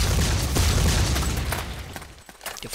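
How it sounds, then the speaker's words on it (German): Grenade explosion in the blocky shooter Ace of Spades: a loud, close boom with a rumbling low end that decays over a couple of seconds, with no talk over it. "Die Volldeppen sprengen sich in die Luft."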